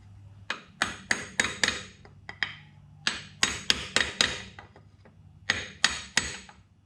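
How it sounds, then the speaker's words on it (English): Light taps with the end of a hammer handle seating a crankshaft pulley onto a Toyota 2H diesel engine, in quick close clusters of sharp knocks separated by short pauses. "I'm just using the end of the hammer handle and tapping it piece by piece"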